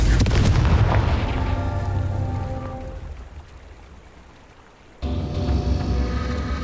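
A Confringo spell explodes in Hogwarts Legacy inside a mine, opening with a loud booming blast that rumbles and crackles before fading over a few seconds, followed by a sudden burst of renewed noise.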